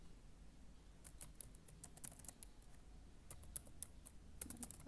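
Typing on a computer keyboard while entering an SSH login command: quick clusters of light, crisp key clicks with short pauses between bursts, close and fairly faint, with no voice.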